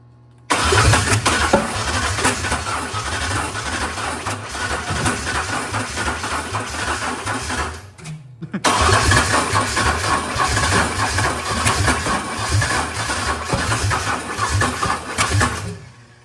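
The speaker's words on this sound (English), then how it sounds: "I think it's gonna start." A Ford truck engine cranks and fires up, running loudly and roughly before cutting out briefly around the midpoint, then restarting and running steadily to the end, close and prominent.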